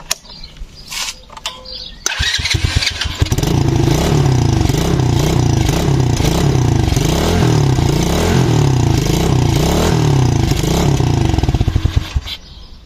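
A Madix 50 quad, a Chinese-made 50cc machine, is cranked with a few clicks, then its small engine catches and runs loud and close with a rattling, rapid idle before cutting out and stalling at the end.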